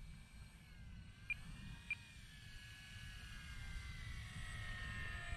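An FMS PA-18 Super Cub RC tail-dragger plane flies overhead on a Florida morning, its small electric motor whining steadily and growing slightly louder, with two brief clicks early on.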